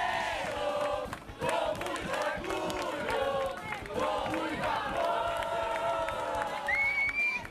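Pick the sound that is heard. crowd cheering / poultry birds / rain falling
crowd cheering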